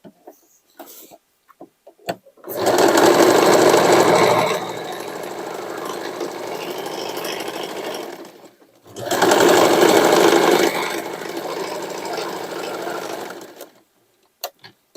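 A sewing machine hems a hoodie made from old denim jeans, running in two loud, sustained bursts separated by a short pause, with light handling clicks at the start and end.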